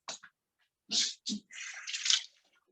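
Green onions rinsed under a running kitchen tap: a few short splashy bursts, then a steadier close stream of water that swells and fades, with no talking.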